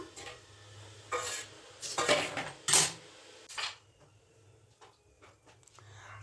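Potatoes cut for frying go into oil in a kadai and are stirred, with soft sizzling under several sharp scraping and clattering strokes of a utensil against the pan, then quieter scrapes; no talking.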